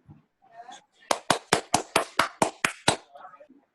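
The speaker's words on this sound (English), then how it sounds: "Let's give a round of applause for Miss Vanessa's art class." A short burst of about ten evenly spaced hand claps, sharp and close, rings out after brief murmuring, giving a small round of applause for a children's art class.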